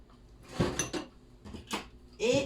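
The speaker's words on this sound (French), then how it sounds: "Et on remue tout ça." A spoon clinks and scrapes against a bowl while yeast, salt and oil are stirred together for pizza dough, giving a few short, close knocks and scrapes with pauses between them.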